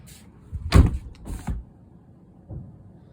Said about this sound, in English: it allows me to open up the door and actually get out of the car